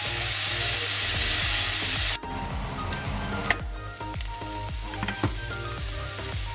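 Vegetables for a simple vegetable curry caramelizing in a hot pan give a steady, loud sizzle and crackle, with the hiss dropping partway through as occasional sharper pops and spits continue.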